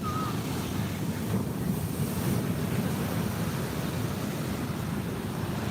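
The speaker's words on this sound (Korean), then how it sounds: "저 뒤에 파도 밀려오는 거 봐" Ocean surf rolling in at a beach, a steady loud wash of breaking waves mixed with heavy wind rumble on the microphone, continuous throughout with no talk.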